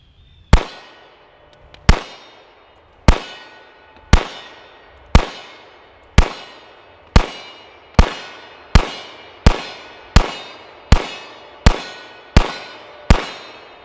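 Pistol firing Winchester NATO standard ball rounds at a range: fourteen sharp, loud single reports evenly spaced about a second apart, each with a short decaying ring, and no talk between them.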